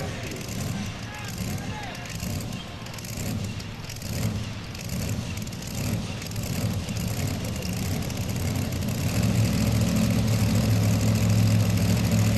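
A pulling tractor called the Varmint idles on the line at the 1998 National Farm Machinery Show tractor pull in Kentucky. A steady low engine rumble builds and thickens toward the end beneath the hum of a crowd and a public-address announcer.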